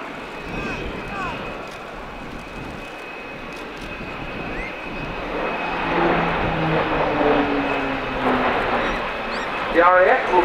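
Airbus Military A400M Atlas transport aircraft flying a display at the 2013 RIAT airshow, a broad steady engine roar and rumble that swells louder toward the end, with faint voices underneath.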